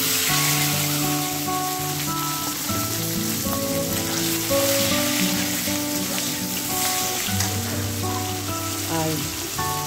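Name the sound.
tomato, onion and whole garlic frying in hot oil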